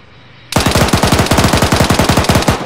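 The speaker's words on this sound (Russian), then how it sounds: "Стреляет с БТРа" Automatic cannon fire from an armored personnel carrier in ARMA 3 cuts in sharply after a brief quiet, then runs as a loud, close, rapid and steady stream of about twenty heavy shots.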